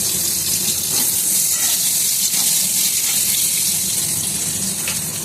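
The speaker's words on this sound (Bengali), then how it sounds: "আলুটা পুরো ভাজা ভাজা হতে থাক" Salted potatoes fry in hot oil in a home kitchen, a loud, continuous bubbling hiss close at hand with faint clicks scattered through it and no talking.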